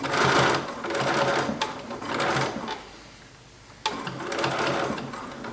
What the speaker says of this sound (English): I'm just stitching close to that edge, staying on my bias.